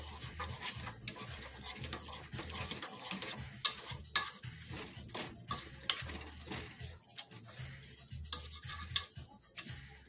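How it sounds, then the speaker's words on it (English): Spanish sauce with hamburger meat and its grease bubbles in a pan on medium heat, a quiet, uneven simmer with faint ticking pops and occasional stirring clatter. "Now, I'm going to let this simmer, I'd say for another 10, maybe 15 minutes on medium"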